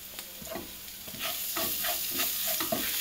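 Spice masala stirred with a spoonful of ghee in a pan, repeated close scraping strokes over a continuous gentle sizzle that grows slightly fuller partway through, no voices.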